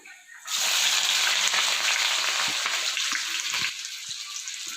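Sliced large onions and green chillies hitting hot oil with whole spices in a pan, a loud steady sizzle that rises sharply, holds, then eases slightly, with faint clinks of stirring.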